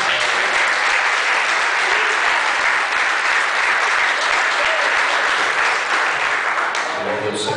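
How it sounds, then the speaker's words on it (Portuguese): A church congregation applauds loudly and continuously during a worship service welcoming a pastor, a dense wash of clapping that stays steady before briefly thinning near the end. "aplaudindo Jesus bem forte na vida dele."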